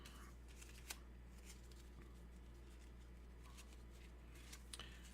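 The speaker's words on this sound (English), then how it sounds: "So I need to shuffle here." A deck of Gloomhaven board game cards being shuffled, quiet riffling and shuffling with a few sharper snaps, close and soft with no talk.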